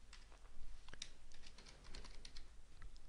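Quiet, rapid keystrokes on a computer keyboard tap out an email address, an uneven patter of clicks close by with no voice over them.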